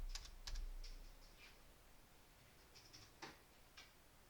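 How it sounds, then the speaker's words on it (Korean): Keys on a computer keyboard clatter as data is entered into a spreadsheet: a few quick, scattered clicks with pauses between, fairly close and quiet, with no voices. "여기다 데이터를 100이라고 입력해 보겠습니다."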